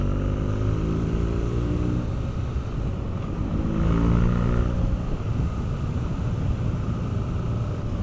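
A BMW R nineT Pure, restricted for the A2 licence, rumbles along at low and mid revs, a deep, steady engine drone with a brief surge in the middle as the throttle opens, steady wind noise underneath.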